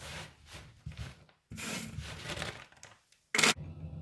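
A knife slices sweet beancurd steak into strips on a board, giving short rasping cuts in bursts with brief pauses and a sharper knock near the end, close and fairly quiet.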